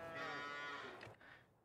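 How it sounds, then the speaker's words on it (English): A cow in Farming Simulator 22 lets out one long, loud moo lasting over a second, then a softer trailing call and a brief thump, with no talk over it. "And buy some baby cows."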